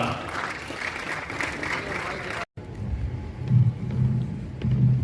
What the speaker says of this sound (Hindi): जोरदार तालियों के साथ स्वागत करें महानुभावों का